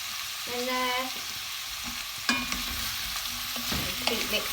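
A spoon scrapes and stirs aubergines and other vegetables in a large pot for an African cashew nut stew, with a soft sizzle underneath and a few sharper knocks against the pot.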